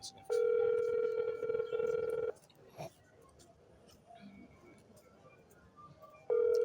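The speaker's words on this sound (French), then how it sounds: "Le téléphone sonne" Ringback tone of an outgoing phone call: two long steady ring bursts, a loud two-second one at the start and another beginning near the end, with a quiet gap between them.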